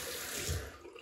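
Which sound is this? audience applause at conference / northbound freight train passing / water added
water added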